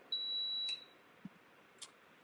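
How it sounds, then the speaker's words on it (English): A Milthy multi-pot pressure cooker gives a single clear electronic beep of under a second, fairly quiet in an otherwise still kitchen, followed by a couple of faint clicks. "the pressure cooker will beep at us and will let us know that it's accepted"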